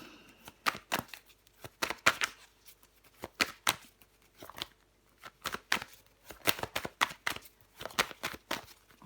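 Tarot cards slapped and slid down one after another onto a card on a table, a run of sharp, close papery taps and brushes in uneven bursts with brief pauses between.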